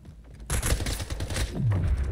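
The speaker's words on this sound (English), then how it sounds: "that was the laser rifle" A laser rifle firing in the arena shooter video game Splitgate: a sudden loud burst of rapid, rattling shots breaks in after a quieter start, followed by a low descending whoosh.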